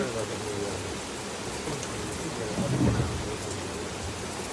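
Heavy rain pours down steadily in a dense, continuous wash, with a low rumble of thunder swelling briefly near the middle.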